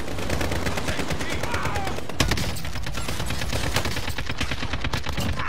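Rapid bursts of video game gunfire crackle continuously during a duos match, dense and loud throughout, with a sharper blast midway and a voice talking faintly underneath.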